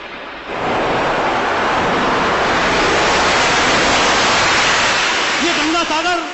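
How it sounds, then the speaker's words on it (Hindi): Sea surf rolls in a broad, constant roar of waves that rises after a quiet first half-second and stays loud and unbroken, with a voice starting to speak right at the end. "इस धरती पर लहराने वाला समुद्र"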